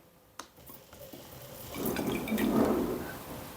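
Water pours into a container before acid is added during a school chemistry experiment, starting with a few light drips and building into a fuller, splashing pour that grows louder toward the end.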